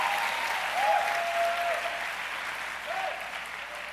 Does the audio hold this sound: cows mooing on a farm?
no